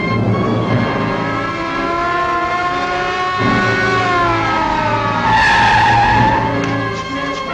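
A 1950s film car skidding after its tires are shot out, a loud sustained tire screech over the engine's drone, wavering in pitch and surging near the end.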